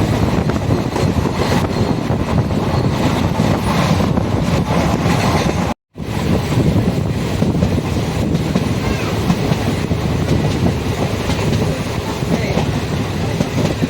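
A train approaching Virudhunagar railway station rumbles steadily along the tracks, a dense continuous roar with faint rhythmic clatter, broken by one brief dropout midway.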